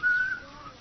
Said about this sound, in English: don't you know you shouldn't whistle?